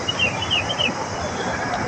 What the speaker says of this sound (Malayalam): കുറേ കിളികളുടെ സൗണ്ട് മാത്രമുണ്ട്